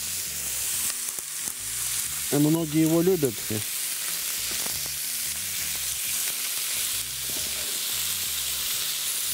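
Pork fries in a pan with a steady, soft crackling sizzle, close by, while someone speaks briefly over it near the start.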